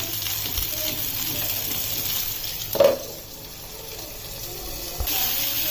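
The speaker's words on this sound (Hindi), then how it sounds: "देखिए गोटे साइड फ्राई हो जाए अब फ्राई करना।" Whole pointed gourd (parwal) frying in a pan, a steady broadband sizzle running throughout with a brief clatter of stirring midway, close and moderately loud.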